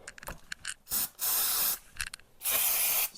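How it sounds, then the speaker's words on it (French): Brake cleaner sprays from an aerosol can around the oil filter of a Yamaha FJR 1300 motorcycle, two long loud hissing blasts after a few short clicks and spurts, close up, with no talk. "je prends du nettoyant frein. Je viens le pulvériser autour du filtre"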